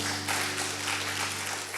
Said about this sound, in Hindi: क्यों ना उसके ताली के द्वारा स्वागत करें।